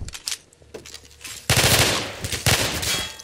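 M4 rifle fire in Garry's Mod: loud rapid automatic bursts, continuous and near, with heavy sustained volume and no talking over it.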